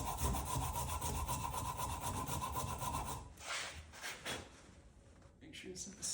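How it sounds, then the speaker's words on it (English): A Shinto rasp scrapes along a wooden axe handle in rhythmic back-and-forth strokes, close and coarse, giving way to a few separate rasping passes and handling noises near the end. "Shinto rasp."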